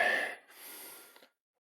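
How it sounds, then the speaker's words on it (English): Heavy breathing comes from a lifter during a set of hack squats: one sharp gasp, then a long breathy exhale that fades to silence. "Control the breathing."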